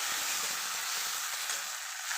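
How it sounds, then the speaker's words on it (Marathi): Tomatoes and garlic sautéing in a pan for a village-style okra bhaji, giving a dense, continuous close sizzle with no voices. "आता यामध्ये टोमॅटो मला पण छान परतून घेणार आहे"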